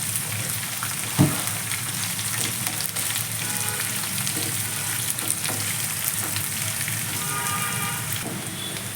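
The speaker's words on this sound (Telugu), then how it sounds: "దీన్ని కూడా ఏంటంటే ఈవెన్గా ఫ్రై అయ్యేలాగా మిక్స్ చేసుకుంటూ ఫ్రై చేసేద్దాం" Amaranth leaves frying with moong dal in hot oil give a steady, close sizzle, with light scraping and stirring knocks scattered through and a sharper clack near the start.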